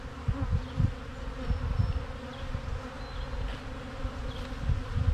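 Honey bees hum steadily inside a hive, a dense continuous buzz with small swells and occasional nearer passes, moderately loud and with no talk over it.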